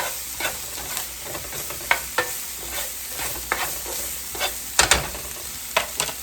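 Meats frying in a pan for breakfast fried rice sizzle steadily while a utensil stirs them, with repeated scraping and clacking strokes over the continuous hiss, close and moderately loud.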